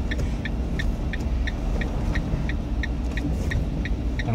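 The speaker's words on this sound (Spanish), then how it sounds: "Ahí viene un coche, paro." A car rolls past on a road, a steady mid-pitched engine rumble and tyre noise holding loud and close throughout, with a regular electronic beeping, like a seatbelt warning chime, pulsing repeatedly over it.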